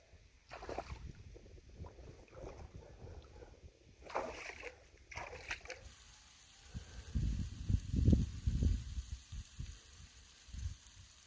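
Water sloshes and splashes in the lake at Malham Tarn in the Yorkshire Dales, with soft irregular bursts at first and then a louder, closer run of splashing toward the end.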